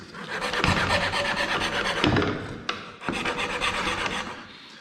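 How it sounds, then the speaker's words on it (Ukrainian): Hand saw cutting along a marked line on a hair clip blank, rapid back-and-forth rasping strokes in steady bursts with a couple of brief pauses, close and loud, no speech. "Потім вже на місце його ставляємо пилку і пиляємо по розмітці."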